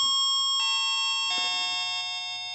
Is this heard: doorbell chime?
yes